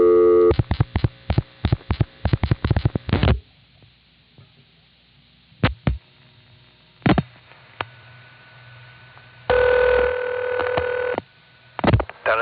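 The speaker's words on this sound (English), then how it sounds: "Revertive pulsing was discernible there, but just barely." A 1974 telephone call to Larchmont, New York, in the 914 area: rapid dialing tones and clicks, quiet line gaps, faint revertive pulsing clicks, then a steady tone burst and more clicks.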